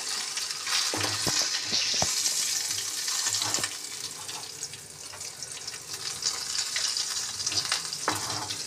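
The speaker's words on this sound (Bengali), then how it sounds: "মাছগুলো ভাজা হয়ে গেছে, এবার আমি তুলে নিচ্ছি।" Tangra fish sizzle steadily as they fry in oil in a pan, with a few clinks and scrapes of a utensil lifting the pieces out, and the loud, continuous hiss stays close.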